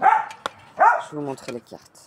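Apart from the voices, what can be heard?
dog barking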